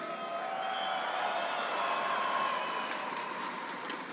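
A large crowd at the Bassmaster Classic championship Sunday weigh-in applauds and cheers in a continuous, dense wash of clapping, with a few whistles and whoops on top.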